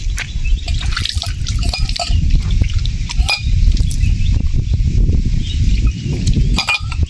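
Clean spring water pours and splashes through a cloth filter on a mountain trek, a busy close-up gurgle broken by small clinks and drips of a vessel.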